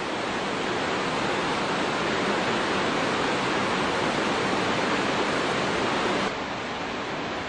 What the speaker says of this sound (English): we're standing right next to the creek there, or in it even